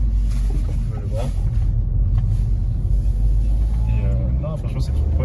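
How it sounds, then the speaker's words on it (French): A Smart ForFour Prime with a light 90 hp engine hums steadily while driving, a loud continuous low rumble heard from inside the cabin with someone talking over it. "un bon petit bruit, un petit bruit moteur"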